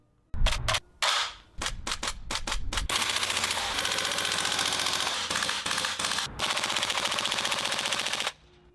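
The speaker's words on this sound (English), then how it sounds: "Shooting this MP5" A VFC HK MP5A5 gas blowback airsoft gun fires several sharp single shots, then sustained rapid full-auto bursts with a brief break, loud and close, mechanical clacking in quick rhythm, no talking.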